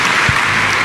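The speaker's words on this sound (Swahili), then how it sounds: "Mpigie makofi" A church congregation claps for a girl at a Kikuyu church school service, a dense burst of applause filling the room, loud and close, with no talking.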